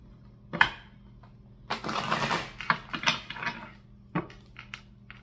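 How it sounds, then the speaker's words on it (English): Tarot cards riffled and tapped together in a few quick bursts, a crisp papery shuffle with short pauses between, close by and fairly quiet. "Give it one shuffle here."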